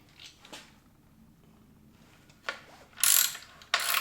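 An 11 mm metric deep socket on a ratchet loosens a bike bolt: a few soft clicks, then sharp, loud bursts of rapid ratcheting up close, with no talk.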